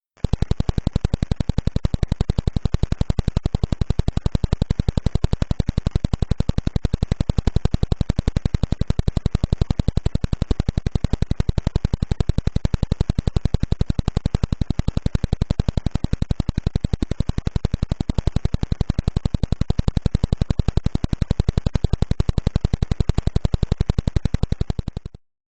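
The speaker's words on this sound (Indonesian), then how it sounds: "gelombang radio yang ditangkap tersebut diterjemahkan menjadi nada suara." A rapid, steady train of sharp pulses ticks on without pause, like a fast mechanical clicking or buzzing beat, uniform in loudness from start to end: pulsar radio waves converted into audible tones.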